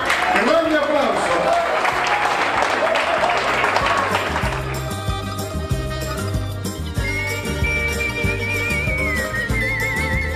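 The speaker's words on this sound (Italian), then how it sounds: "Grande applauso." An audience claps on a Neapolitan music cruise at its closing gathering. Dense applause fills the first few seconds and then gives way to music, with voices heard throughout.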